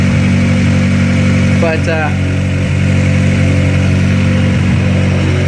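A Honda Accord engine running at a steady idle after being revived on old spark plugs, with smoke coming off the headers; a loud, even mechanical drone with a brief word spoken over it.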